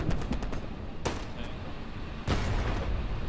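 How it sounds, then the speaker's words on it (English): An MG42 machine gun fires in Hell Let Loose during a Battle of the Bulge fight at Foy: a quick rattling burst up front, a single loud crack near the middle, then a dense, sustained roar of battlefield gunfire. "That's an MG42."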